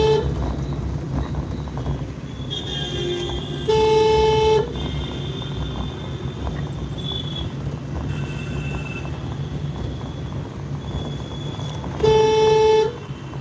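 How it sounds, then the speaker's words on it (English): Two loud car horn blasts sound a few seconds apart over steady morning commuter traffic in India, with fainter honks from other vehicles scattered in between. "I'm honking because I'm commuting to my office"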